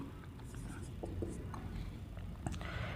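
Marker or chalk writing on a board during a Hindi-language percentage maths lesson, a faint scratchy stroke sound repeating irregularly at close range over room noise, with no speech.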